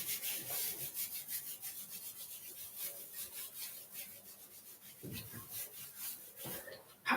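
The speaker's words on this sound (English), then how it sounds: "just give the knees a rub." Hands rubbing the knees during qigong exercises, a soft, steady brushing friction sound with rhythmic strokes, quiet and close, louder toward the end.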